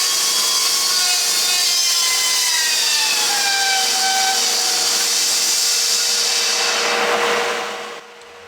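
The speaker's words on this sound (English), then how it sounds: "so you can hear the motor and everything kind of slow" A sawmill cuts through wood, its motor and blade roaring loudly and steadily while the pitch slides down as the motor slows and pulls hard, then the cut eases off near the end.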